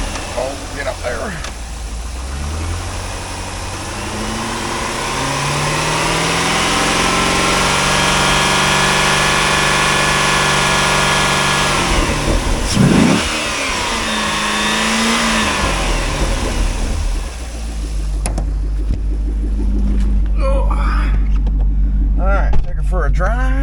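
A 2005 Chevrolet Corvette C6's LS2 V8 idles with a deep, even burble, then holds a loud sustained rev with a rising and falling pitch before dropping back to a lumpy idle, recorded close up while a person talks.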